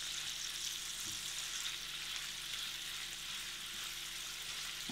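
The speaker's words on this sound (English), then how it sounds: "I want the bacon to start browning before we add the mushrooms and later on the garlic" Bacon sizzling steadily in a pan as its fat renders and it browns, a constant close frying hiss with a faint clink near the end, no voices.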